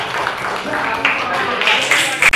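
Grade 8 civics students applaud a group after its presentation. The scattered clapping runs under noisy classroom chatter and voices for a couple of seconds.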